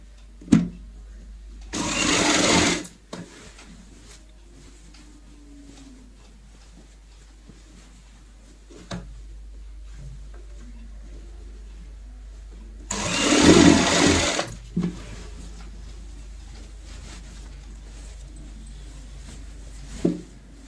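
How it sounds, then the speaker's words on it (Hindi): A sewing machine stitches fabric for a bed sheet made from leftover cloth, two short loud bursts of running a couple of seconds each separated by long quiet stretches. "अब हम इस साइड सिलाई लगाएंगे।"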